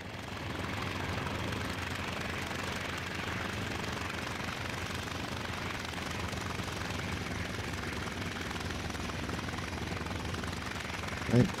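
Aircraft engine droning steadily as a plane comes in to land in the IL-2 Sturmovik flight simulator, a continuous low rumble at even loudness.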